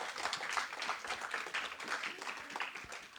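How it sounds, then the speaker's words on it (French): A church congregation claps together for a few seconds during a sermon, a fairly faint, dense patter of hands heard from some distance. "Applaudissez pour le Seigneur Jésus."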